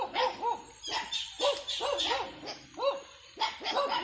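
A little puppy gives a run of high, yappy barks and yips in quick succession, close by and fairly loud, during an outdoor morning walk with no talking.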